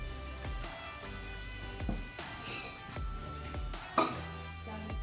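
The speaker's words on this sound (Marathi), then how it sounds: "आता आपण बटर लावून पहिले पाव थोडेसे भाजून घेणार आहोत" Pav buns toasting in butter on a hot pan give a quiet, close sizzle broken by a few soft thumps and scrapes as the buns are pressed and moved, with no voices.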